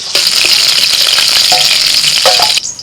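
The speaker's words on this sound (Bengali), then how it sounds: "ওই যে ইলিশ মাছের মাথাটা যে ভাজছে ওই তেলটা রেখে দেবে" A hilsa fish head fries in hot oil close up, a loud, dense, continuous sizzle and crackle that cuts off abruptly just before the end.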